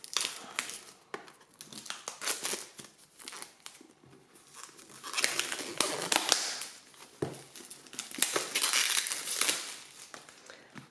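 A rigid cardboard box of oracle cards is opened up close, with scraping, crinkling and rustling of card and packaging in irregular bursts that grow louder midway, no talking over it.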